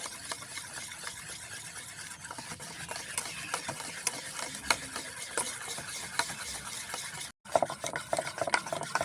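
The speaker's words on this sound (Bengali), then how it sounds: "এ দেখো খুব ভালোভাবে কিন্তু আটাটা আমি ফাটিয়ে নিয়েছি" Flour-and-water jalebi batter being whisked steadily in a bowl, a continuous close scraping and slapping stir with a brief pause near the end, no talking.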